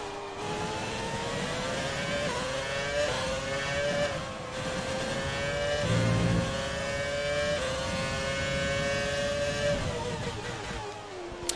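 A Formula 1 car in the F1 2020 racing game holds a steady high engine whine that rises and dips through gear changes, with a brief braking lull in the middle, loud and continuous without talk.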